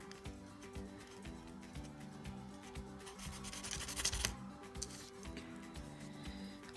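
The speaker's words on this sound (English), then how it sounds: "Just sand a little more." Sanding a small plastic scale-model part for a Revell 1/48 F-102A, a steady close rubbing scrape with repeated strokes and quiet music underneath.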